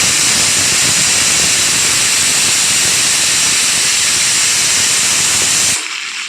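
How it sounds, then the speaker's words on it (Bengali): Pressure cooker of dal on the stove releases a loud, steady rush of steam for nearly six seconds, then cuts off abruptly into quiet. "পাশে কুকারে ডাল বসিয়েছি, সিটি পড়ছে"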